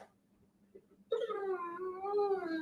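A dog whines in a long, drawn-out wavering whimper that rises and falls for over a second, close and fairly loud after a quiet start with a faint low hum.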